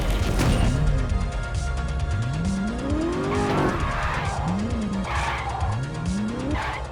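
A car revving and changing gears in the mobile game Gangstar Vegas, engine pitch sweeping up and down repeatedly with tire squeals and skids, loud and continuous with no talk.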